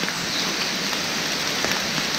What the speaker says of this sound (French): Là, ça s'est mis à pleuvoir. Et il pleut vraiment.